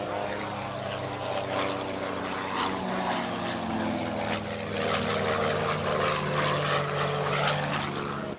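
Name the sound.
aircraft flying at an air show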